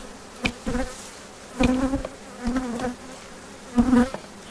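Loud buzzing of honey bees around a hive in several close bursts, swelling and fading as they fly near, with quieter gaps between.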